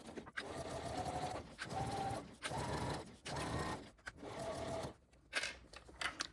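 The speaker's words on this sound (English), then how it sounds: "And then I will back stitch at both the beginning and the end." Sewing machine back stitching along the edge of an interfacing piece while sewing a crossbody bag, in short rhythmic bursts of fast stitching separated by brief pauses, quiet and close with no talk.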